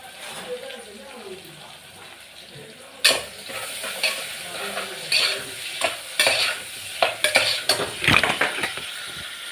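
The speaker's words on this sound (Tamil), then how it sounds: "பட்டை லவங்கம் போட்டு வெங்காயம் போட்டு வதக்கிக்கிடுவேன்" Onions sautéing in ghee and oil with cinnamon and cloves for biryani, stirred repeatedly so a steady sizzle alternates with loud scraping and clanking of a utensil against the pan, close up.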